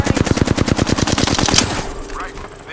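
Rapid automatic gunfire from the video game Apex Legends: a loud, close burst of evenly spaced shots that lasts nearly two seconds, then cuts off and leaves faint background sound.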